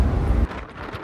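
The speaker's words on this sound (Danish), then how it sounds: "Så om I kan høre, så blæste ekstremt meget" Strong wind buffets the microphone on an open ferry deck bound for Moskenes in Lofoten, a loud rumbling roar that drops off sharply about halfway through to a lighter, gusty hiss.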